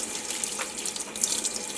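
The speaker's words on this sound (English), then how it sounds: "run these roots under the water" Tepid tap water runs steadily from a faucet over the roots of a phalaenopsis orchid being repotted, a continuous close splashing hiss in a sink with no talking.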